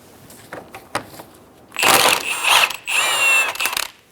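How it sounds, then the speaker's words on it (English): A ratchet fitted with a 17mm socket backs off the outer tie rod nut on a 2003-2007 Honda Accord, a few light clicks first, then loud, close bursts of rapid ratcheting clatter. "Using a 17mm socket, remove the nut for the outer tie rod."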